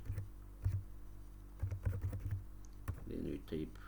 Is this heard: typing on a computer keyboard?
yes